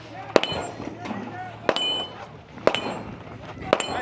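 Pistol shots strike steel targets at 15 yards during a men's 40+ competition stage, four sharp cracks, each followed by a bright metallic ring, spaced about a second apart over low background chatter.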